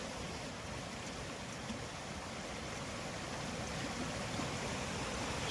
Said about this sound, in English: Lovely water flowing through,